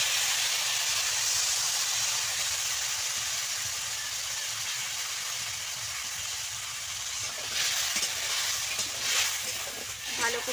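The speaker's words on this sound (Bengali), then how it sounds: "এবার সেই যে বেটে রাখা হয়েছে মশলা সেটা দেওয়া হচ্ছে।" Ground spice paste with chili and turmeric powder fries in a pan, giving a continuous bright sizzling hiss that fades slightly, then returns with a few stirring scrapes and crackles toward the end.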